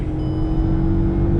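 A Hyundai Venue Turbo DCT or 2010 Maruti Suzuki Swift accelerating hard in first gear at about 6,200 rpm during a drag race, a steady loud engine drone held throughout the short burst.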